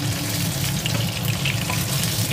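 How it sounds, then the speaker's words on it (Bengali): Bhetki fish frying in hot mustard oil, a loud, steady close-up sizzle with a crackling spatter that carries on without pause, and no voices. "এবার একে একে মাছগুলো আমি হালকা করে ভেজে নেব।"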